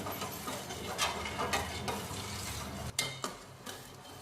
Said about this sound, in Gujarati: ઉકળે એટલે એને વચ્ચે વચ્ચે હલાવતા રહેશું